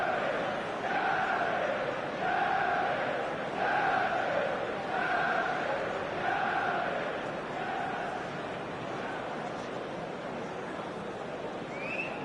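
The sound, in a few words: stadium crowd in a PS4 football video game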